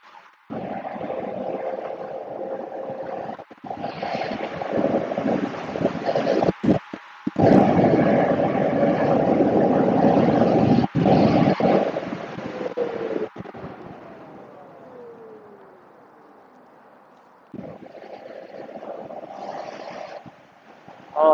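Wind roars steadily across the microphone of a Veteran Sherman electric unicycle being ridden fast along a street, a loud broadband rush that swells and eases, briefly drops away, then returns.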